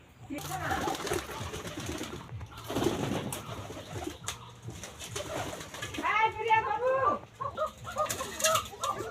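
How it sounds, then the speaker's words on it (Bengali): Desi koka pigeons coo in low, throaty bursts on a farm, with wing flaps and some rustling nearby. "কবুতরগুলো খুব ভয় পাচ্ছে"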